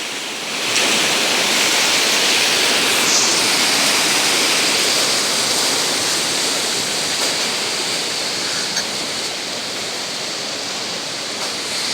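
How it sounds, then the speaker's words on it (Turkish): River water rushes steadily just above a dam at Beyazsu, near a trout farm, a dense continuous roar of white water up close with no talk over it. "Bu su da baraja gidiyor buradan."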